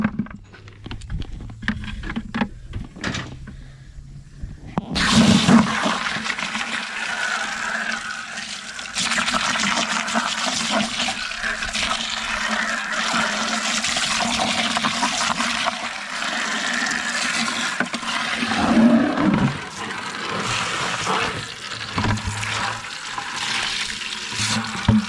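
A muddy container is rinsed out with water: a rushing, splashing stream sounds for about twenty seconds after a few sharp knocks and bumps, and stays loud and steady throughout.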